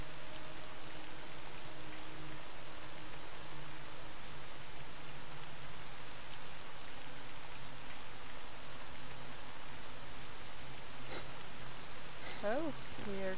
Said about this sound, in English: And it's still raining, come on.